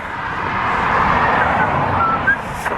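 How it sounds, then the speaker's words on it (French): A car passing along a windy street, a broad rushing swell that builds and fades over a few seconds, fairly close and loud, with no talking. "Donc il y a du vent, il y a des voitures"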